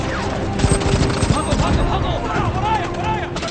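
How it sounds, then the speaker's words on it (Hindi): Movie gunfire in a Hindi-dubbed action film: a rapid volley of shots, loud and close, mixed with clattering impacts. Someone shouts urgently over the shooting. "हम पर गोलियां चल रही हैं।"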